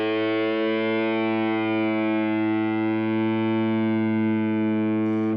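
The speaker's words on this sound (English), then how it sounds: "So you can kind of hear it kind of warble around there, right?" One sustained lead synth note held steadily through an all-digital effects pedal, its bright harmonic-rich tone warbling gently in pitch, alone and moderately loud with a small click at the very end.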